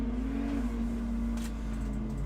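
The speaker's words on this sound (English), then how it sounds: "we can hear the 57 machine of Aaron Havey flying towards us to complete lap number 4," An enduro race car, number 57, runs on a riverland circuit with a continuous engine drone and a steady tone, holding a constant level through the stretch as it comes toward the listener.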